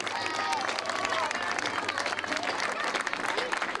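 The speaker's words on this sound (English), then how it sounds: "I want all the grown-ups to applaud them for all the beauty that they've grown." Steady applause from an audience at a children's garden event, dense clapping with crowd noise and voices mixed in throughout.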